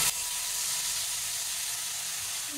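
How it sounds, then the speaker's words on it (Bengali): Onion, garlic and tomato paste goes into a hot pan of oil with cumin for pepper fish. It sets off a steady, close sizzling hiss that continues without pause and without voices. "এখন এই যে পেঁয়াজ রসুন টমেটোর যে পেস্টটা, সেটা আমি এর মধ্যে দিয়ে দিচ্ছি।"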